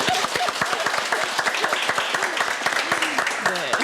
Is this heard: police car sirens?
no